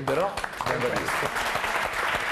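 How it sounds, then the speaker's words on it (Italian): Studio audience applause on an Italian television talk show makes a broad, steady wash of clapping beneath a voice, which speaks over it for most of the clip. "Farei un applauso"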